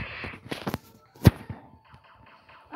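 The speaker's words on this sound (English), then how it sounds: "Ah, he's shooting me with his gun." Gunshots in the Roblox game Blox Fruits: a few sharp, scattered cracks, one loud report standing out amid faint game noise.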